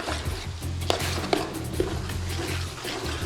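Cooked dal going into a pot with a fried paste and being stirred for a curry base, giving wet squelching and sloshing with a few sharp clinks of the spoon against the pot, close and fairly loud.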